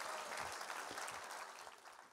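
A church congregation applauds during a sermon; the clapping is faint and distant, a continuous soft patter that tapers slightly toward the end.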